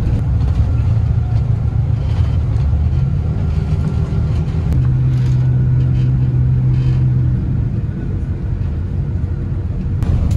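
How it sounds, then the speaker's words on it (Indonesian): A bus on the road passing a Bagong bus, heard from inside as a loud, steady engine rumble with a sustained low drone midway as the other bus goes by. "Tadi barusan papasan dengan bis Bagong teman-teman."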